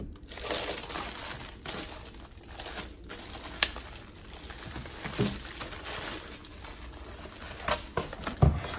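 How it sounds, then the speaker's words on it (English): An Easy Press 2 heat press machine is pulled out of its plastic wrapping up close, with continuous crinkling and rustling broken by sharper crackles and a few louder bumps near the end. "let me just take it out of the plastic"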